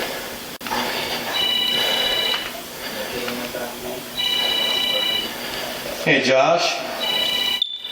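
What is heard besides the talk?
mobile phone ringing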